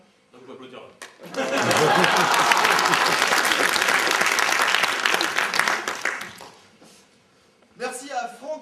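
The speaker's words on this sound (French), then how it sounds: "Donc, vous pouvez applaudir là." A theatre audience at an amateur play in Machecoul bursts into loud, sustained applause that lasts several seconds and then fades. A voice speaks briefly before the clapping and again after it.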